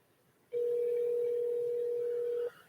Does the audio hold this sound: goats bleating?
no